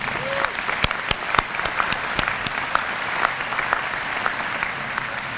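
Applause at a university commencement ceremony for the musical groups: a broad, sustained crowd clapping with a few sharp, close individual claps standing out, continuing for several seconds in a large hall.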